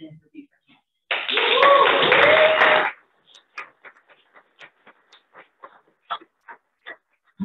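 An audience at a Beaufort County Republican candidate introduction event breaks into about two seconds of loud, dense applause. It cuts off abruptly, and quieter, scattered speech follows.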